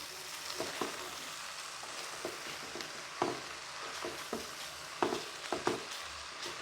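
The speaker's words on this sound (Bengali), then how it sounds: "লাউটা আমি একটু কষে নেই" Bottle gourd is stir-fried in a sticking kadai, with a low steady sizzle and repeated scraping, knocking spatula strokes against the pan, close by with no talking.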